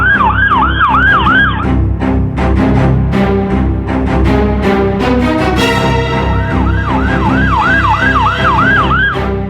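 A loud ambulance siren in a street in Malvani wails in repeated rising-falling sweeps, briefly giving way to a blaring horn-like tone before the wail resumes.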